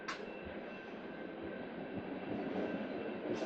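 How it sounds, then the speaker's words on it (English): A small train runs through a Wisconsin town, heard from a distance as a steady low rumble and rolling hum that builds slightly near the end, with no talking. "Little train running through town down there."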